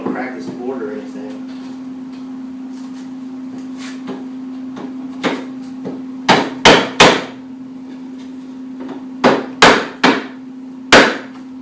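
Sharp hammer and pry-bar strikes ring out on kitchen countertop boards as old nails are worked loose, a handful of loud, close knocks in uneven clusters over a steady background hum.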